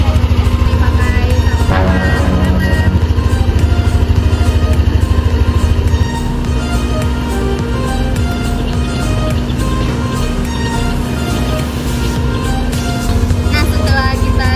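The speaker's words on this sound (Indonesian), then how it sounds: "Seperti biasa kita hidupin motornya." A motorcycle engine runs after being started on a morning warm-up, a loud, continuous close idle with a steady low drone that holds throughout with little change in pitch.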